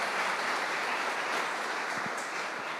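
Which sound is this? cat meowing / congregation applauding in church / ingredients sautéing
congregation applauding in church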